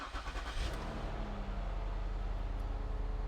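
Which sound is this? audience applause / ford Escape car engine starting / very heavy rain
ford Escape car engine starting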